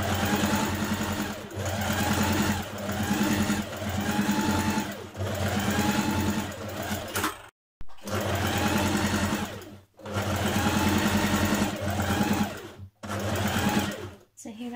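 A domestic sewing machine stitches contrast fabric for a Simplicity 1356 dress in loud, close whirring runs of several seconds each, separated by brief stops, with a voice talking over the machine.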